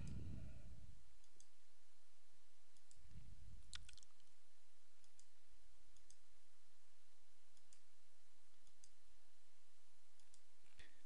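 Faint, crisp computer mouse clicks come one at a time while tool windows are closed in Photoshop CS2, small ticks spread over a quiet room background with a couple of soft low thumps.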